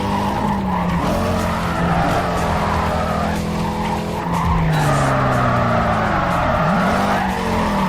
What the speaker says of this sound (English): Man, I love the sound of his car, though. It sounds like a ghost.